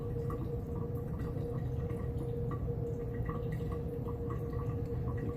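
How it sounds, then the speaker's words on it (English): Condensed water drips inside a distillation apparatus, small soft drops falling at a loose irregular pace over a steady low background hum. "you can see it condensing into the liquid along here and then dripping down through here"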